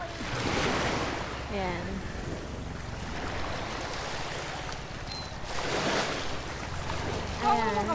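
Sea waves washing into a beach cove at Papaya Island Cove in Nasugbu, Batangas, a steady surf roar with wind buffeting the microphone and brief snatches of a voice speaking.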